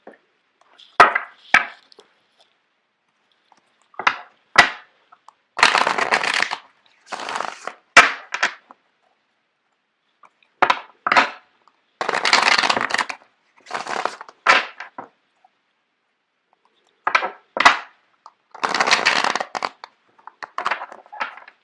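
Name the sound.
shuffling tarot cards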